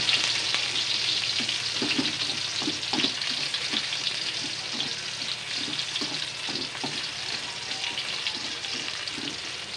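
Onions sauté in hot oil just after garlic for menudo, a steady close sizzle with soft periodic stirring scrapes throughout, no voices.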